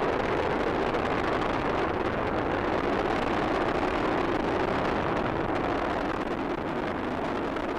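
Space Shuttle Discovery's engines thunder during launch from Kennedy Space Center, a constant broadband roar with crackling rumble that stays dense and loud throughout, without any voices.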